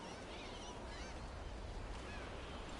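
Birds call in the video game Dragon Age The Veilguard, faint honking, goose-like cries drifting over a steady wash of ambient background noise, a few calls spaced across the short stretch.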